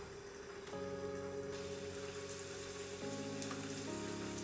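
Tuna-filled gyoza potstickers sizzling in oil in a frying pan, a steady close crackling hiss alongside a constant background hum, with no talking.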